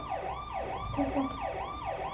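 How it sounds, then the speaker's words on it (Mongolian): A wailing siren rises and falls in steady repeated sweeps, loud and continuous, like an ambulance passing nearby. "Түргэн тусламж юм болов?"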